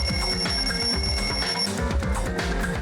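A wall clock alarm in a lounge from the video game Danganronpa 2 rings steadily and loudly, a rapid continuous bell-like trill with a shift in tone partway through, heard alone.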